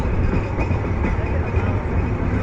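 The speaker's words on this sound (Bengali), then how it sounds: "চিলাহাটি এক্সপ্রেস ট্রেনটি ছেড়ে যাচ্ছে।" Chilahati Express train of Bangladesh Railway pulling out of Joydebpur station, heard as a continuous heavy, close rumble of rolling rail cars.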